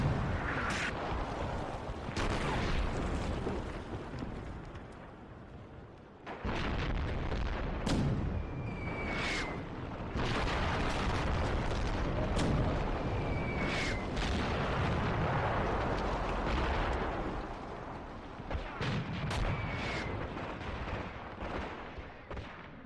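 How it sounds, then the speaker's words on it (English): Field guns firing in Graviteam: Fateful Strike, a WWII tactical war game, give a dense, continuous barrage of deep booms and blasts, loud and close, with sharp bursts breaking through throughout. "Those field guns just really coming in handy."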